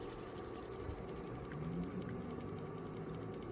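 A vintage Taycol boat toy motor turns slowly, giving a faint, steady mechanical whirr with a soft ticking texture that stays even throughout.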